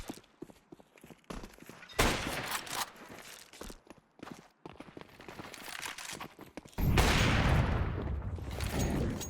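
Counter-Strike match gunfire: bursts of rifle shots and rapid fusillades, loud and close, mixed with footsteps and in-game action noise, with a dense sustained barrage in the final seconds.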